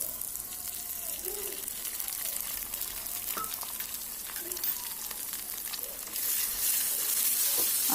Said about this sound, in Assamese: আৰু এতিয়া গোটেই বেঙেনা আৰু কণীখিনি ধুনীয়াকৈ ভালদৰে মিক্স হৈ যোৱালৈকে ভাজি থাকিম।